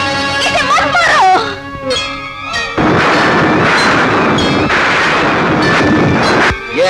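Loud gunshots in a Hindi action film scene, sharp blasts mixed with a ringing musical score and dramatic sound effects, dense and close throughout.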